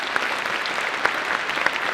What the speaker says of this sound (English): would you stand so we can applaud you?